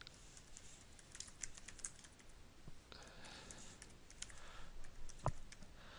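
Typing on a computer keyboard while setting up an email hyperlink in Excel, a quiet run of soft, irregular key clicks with a few sharper taps over low room noise.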